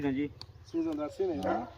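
A pet dog in a village in Dadyal gives a few close, short barks and yips mixed in with someone talking over it.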